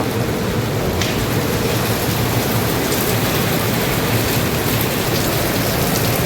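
Heavy rain pours steadily outside a truck during a trip toward Nashik, Maharashtra, a dense, continuous hiss of drops drumming on surfaces with no pauses and no voices.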